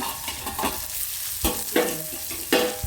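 A tempering of tomato pieces and carrots cooks in a pan for poha, with a steady sizzle and several distinct stirring scrapes of a spoon against the pan, close and alone.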